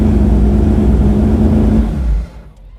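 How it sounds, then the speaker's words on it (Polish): Engine of a Porsche rally car revving hard and holding high revs for about two seconds, loud and close, then dropping away to near silence. "widać silnik momentalnie się dokręca"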